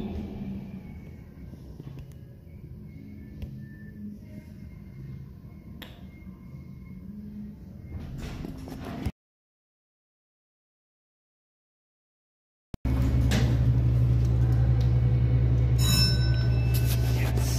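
A huge two-floor freight lift with a 9,000-pound capacity, in Paramus, runs its motor while descending: a steady low mechanical drone that cuts out abruptly for a few seconds, then returns louder and heavier.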